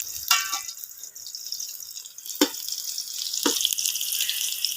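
Long-sliced, washed onion sizzles and crackles in hot ghee, a steady bright frying hiss close by, broken by a few sharp spatters and stirring clatters.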